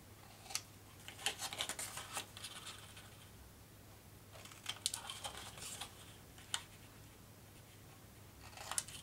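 Paper being trimmed for a handmade mini album: a few quiet snips and brief scraping rubs, spaced out over a low steady background hum, with no talking.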